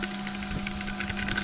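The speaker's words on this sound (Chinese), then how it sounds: "那接下来我们把5个螺丝锁回去" Small screws being driven back into the cyclone housing of a Dyson SV03 V6 vacuum with a steady, whirring power driver, a continuous close mechanical buzz with faint rattles and no voices.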